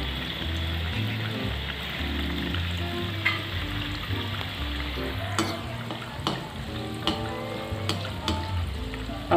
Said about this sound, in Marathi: जेव्हा आपण गुलाबजाम तेलामध्ये तळण्यासाठी सोडतो